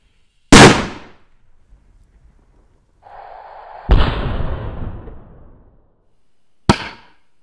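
A Cobra 8 firecracker blasts near windows with a sharp, loud bang, followed by a hissing burst and a second heavy boom with rumbling tail, then another sharp crack; no voices.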